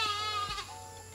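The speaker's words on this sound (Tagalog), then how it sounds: "meron tayong bagong bili na kambing dito guys, no? Kulay puti siya" A small young white goat bleats on a farm, two short wavering cries in quick succession, close and clear with no talk over them.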